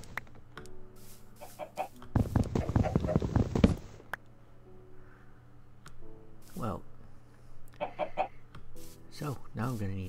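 Chickens clucking in a video game, several short bird calls scattered through the clip over steady game background, with a louder rhythmic burst of other sound in the middle.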